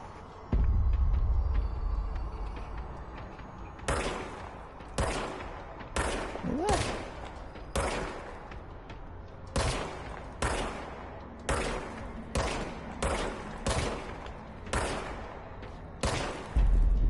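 Gunfire from a gun in a video game, a string of sharp single shots fired at uneven intervals over a low rumbling background, with a brief voice early on.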